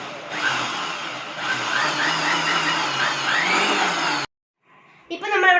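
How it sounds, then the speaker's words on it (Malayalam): An electric kitchen mixer blends watermelon for a milkshake, with a loud, steady whirring grind for about four seconds before stopping abruptly; brief quieter sounds and a voice follow. "ഇനി നമുക്ക് ജസ്റ്റ് ഒന്ന് അടിച്ചെടുക്കാം ഇങ്ങനെ കണ്ടില്ലേ ഇങ്ങനെയൊക്കെ"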